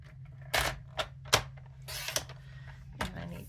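Paper trimmer slicing cardstock strips to 1 1/4 inch for a handmade card, a few quick close scraping cuts and clicks spaced irregularly over a quiet room.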